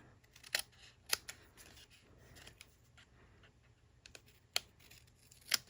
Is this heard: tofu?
no